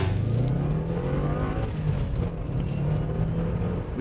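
A Subaru Impreza police car with a six-speed manual gearbox and four-wheel drive accelerates hard, its engine droning loud and steady from inside the car as the pitch climbs and shifts through gears.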